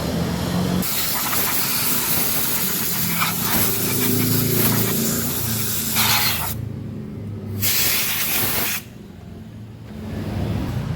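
Cleaner sprayed onto Honda Beat scooter automatic clutch parts, in several long hissing bursts, close and steady, separated by short pauses.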